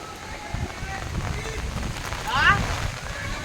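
Heavy rain pours steadily over a neighbourhood in Chakdaha, a dense continuous hiss with a brief brighter splash or shout near the middle, and faint voices mixed into the downpour.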